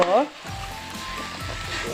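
Indian pennywort and potato fry in a pan with a steady, close sizzle, after a short burst of something brighter at the very start.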